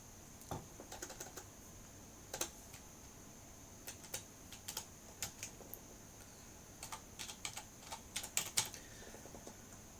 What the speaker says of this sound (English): when you're online typing a column out for a paper